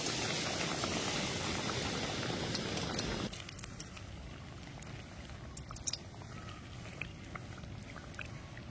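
Coated pitha dropped into hot oil for deep frying, a loud dense bubbling sizzle that drops suddenly to a quieter, steady crackle with scattered pops.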